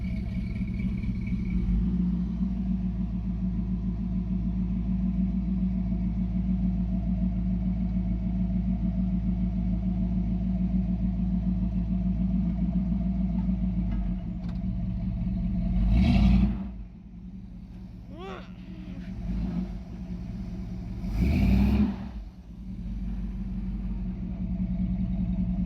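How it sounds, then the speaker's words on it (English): A Mopar 440 truck engine idles steadily with re-set ignition timing, its exhaust a loud, continuous low rumble that runs the whole stretch, with a couple of brief clattering bursts near the end. "could you tell the difference in the sound of the exhaust?"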